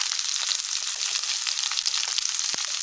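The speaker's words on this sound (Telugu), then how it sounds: "ఎండుమిర్చి గింజలు వేసుకొని ఫ్రై చేసుకోవాలి" Cabbage, beans, carrot and garlic frying in a pan with dried chilli seeds, a steady close hiss of sizzling oil with faint scraping stirs and one sharp clack near the end.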